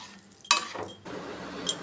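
A spoon scrapes and clinks against a pan while curry leaf thokku with jaggery is stirred, with a few sharp metallic knocks between quieter scraping.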